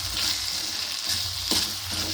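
Mint leaves drop into tomato frying in hot oil in a pan for an Andhra-style cauliflower pepper fry, giving a steady bright sizzle with a few stirring scrapes, close and moderately loud, with no talk.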